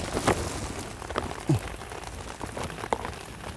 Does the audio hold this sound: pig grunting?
no